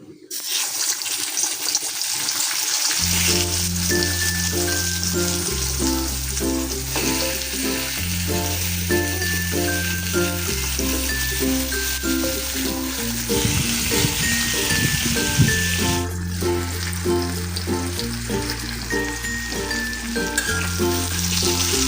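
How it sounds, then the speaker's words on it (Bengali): Crab frying in a pan gives a steady, loud sizzle that runs without a break, with music playing throughout. "আমার কাঁকড় ভাজা"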